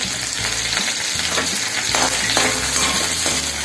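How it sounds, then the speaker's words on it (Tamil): Green chillies and curry leaves with mustard seeds sautéing in oil on medium flame, a loud steady frying sizzle with repeated stirring scrapes of a spatula against the pan. "மீடியம் ஃப்ளேமில் வச்சு வதக்கணும்"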